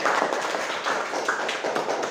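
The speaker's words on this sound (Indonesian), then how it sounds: "Ya, tepuk tangan." Indonesian students in a classroom clap their hands, a steady run of brisk, close, fairly quiet claps lasting a couple of seconds.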